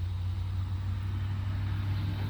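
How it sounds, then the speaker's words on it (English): A car drives past a home garage where a Mazda RX8 is being fitted with a K-series engine, a steady mid-distance road rumble holding evenly throughout. "Wait for this car to go by."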